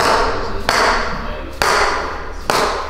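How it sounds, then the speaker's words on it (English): A hammer strikes three times at an even pace during a chiropractic adjustment, each a sharp, close impact followed by a brief ringing decay. "You want me to swing the hammer and you hold the thing?"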